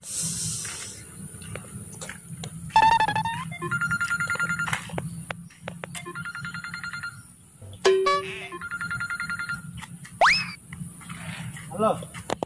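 A phone ringtone plays in short melodic bursts, repeating intermittently against a low background rumble and occasional voices.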